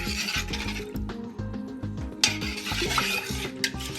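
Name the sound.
mixing turmeric into split peas in a pot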